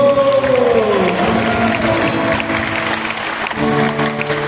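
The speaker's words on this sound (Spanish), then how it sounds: "Aplauso para Cristo." A church congregation at a Catholic retreat claps together, a dense, loud, sustained wash of applause under lingering tonal music that fades away, with no voices standing out.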